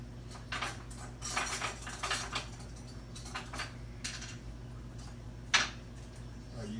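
Metal utensils clatter and jingle while someone rummages through a kitchen drawer for a biscuit cutter, a series of light clinks and scrapes with one sharper clank near the end, fairly quiet with a low background hum.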